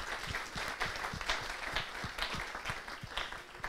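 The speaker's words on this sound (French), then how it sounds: "Je crois que vous méritez un grand applaudissement pour être là" An audience applauds students at a school event, a continuous patter of many clapping hands that sounds faint and somewhat distant throughout, with no speech on top.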